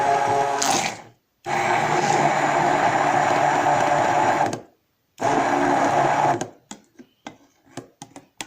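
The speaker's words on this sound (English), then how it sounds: "I will be using the stick blender to blend everything properly" A stick blender churns a rice milk soap mixture in long loud runs, stopping twice briefly, then ends with short scattered pulses and clicks.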